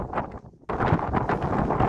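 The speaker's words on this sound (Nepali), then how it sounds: "यता एकदमै धेरै हावा चलिरहेको छ आज, तर धेरै हावा चलिरहेको छ डाँडामा।" Strong wind gusts buffet the microphone on a snowy mountain ridge, a steady loud rushing roar broken by a brief lull before surging back.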